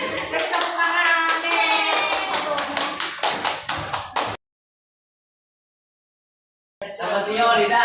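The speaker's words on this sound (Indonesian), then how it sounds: "Dari tepuk tangan." Rhythmic group hand clapping, a quick steady run of sharp claps with voices mixed in, breaking off into silence and then resuming briefly at the end.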